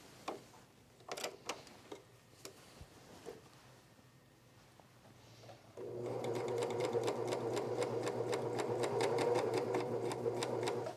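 A sewing machine stitches a Sydney dress with needles that may need changing, starting from about six seconds and running as a steady, loud rapid whir. Before that come a few quiet clicks and handling sounds.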